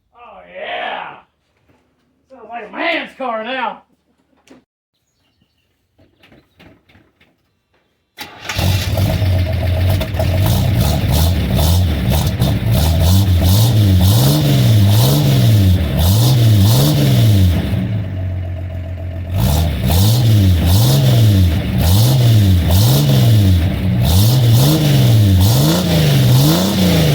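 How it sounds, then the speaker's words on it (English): Car engine fitted with new perforated mufflers fires up and revs loudly in repeated rising and falling bursts, with a short dip partway through, after a few brief spoken remarks at the start. "you can't just cut the exhaust off of something and not fire it up."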